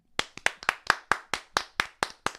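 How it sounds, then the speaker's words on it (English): About ten sharp hand claps ring out in a studio at a steady rhythm, close and distinct, with no voices between them. "Let's clap for that"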